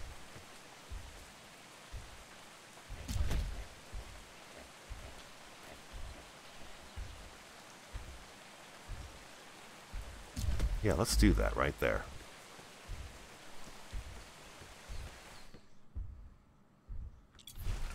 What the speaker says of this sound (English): Oh, I thought it stopped raining.